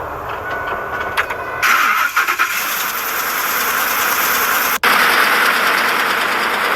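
A car engine cranks and catches, then settles into a steady idle, with a brief dropout midway.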